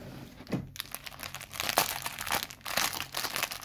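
Crinkling and tearing of the cardboard and plastic behind door number 14 of an Action advent calendar, close and in short bursts over a few seconds, with no talk.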